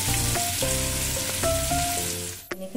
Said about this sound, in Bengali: ভালো করে আলুটা ভেজে নিন।